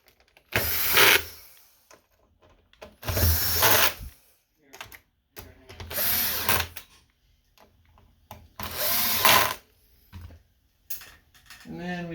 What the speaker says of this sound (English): now we come back to our T10 bit. We're just going to screw all these in.